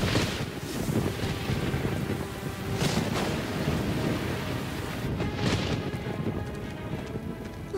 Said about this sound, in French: il pleut à grosses gouttes